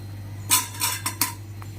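Freshly fried cashew and spinach pakoras lifted from the pan onto a plate with a metal utensil, giving a few close clinks and scrapes over a steady low hum.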